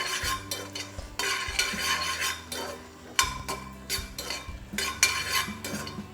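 Cashews, almonds and pistachios roast in a pan for badam milk while a metal spoon stirs and scrapes, clinking against the pan in repeated strokes over a faint sizzle.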